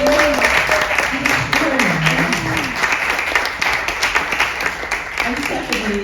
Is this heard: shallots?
no